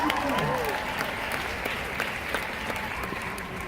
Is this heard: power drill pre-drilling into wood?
no